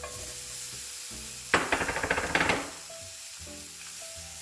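White onion hits a hot pan for Mongolian chicken and bursts into a loud, crackling sizzle lasting about a second, then the pan settles back to a quiet background hum.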